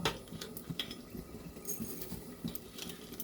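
Whole coriander and cumin seeds dry-roasted in a hot empty pan, stirred with a utensil that gives faint scattered clinks and light scrapes against the metal.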